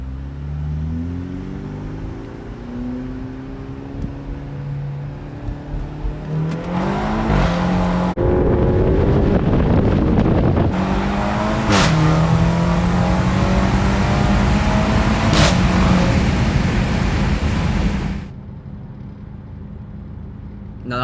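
A tuned BMW B48 car accelerates hard in a rolling pull from 20 mph on bald tires, its engine note climbing loudly through several gears with brief dips at each shift before easing off.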